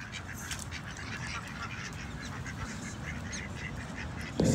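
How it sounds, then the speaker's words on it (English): Ducks quacking at Old MacDonald's Farm, a steady low chorus of calls at moderate distance with a louder honk near the end. "See the noisy ducks."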